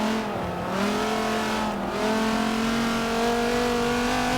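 A race car running on a circuit toward a turn, its engine whining in rising and falling revs through gear changes, loud and sustained over steady road noise.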